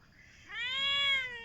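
A single clear meow from a nearby cat rises and holds for about a second before trailing off. The room around it is quiet.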